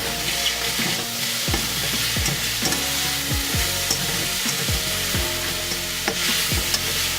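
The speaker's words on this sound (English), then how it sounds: "I'm gonna start stirring, okay? Let's stir." A spatula stirs chicken alfredo in a hot pan, scraping steadily in a repeated rhythm over a continuous close sizzle of frying, with no talking.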